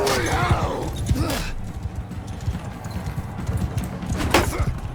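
Rhythmic hoof clip-clop of a trotting horse in Mount & Blade 2: Bannerlord, steady through the clip, with brief voice-like sounds layered in.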